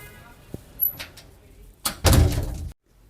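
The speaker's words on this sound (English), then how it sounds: "Let's close the door." A door in a guesthouse room in Hanoi, Vietnam swings shut with one loud, close thud and a brief rattle, after a few faint knocks and a quiet room.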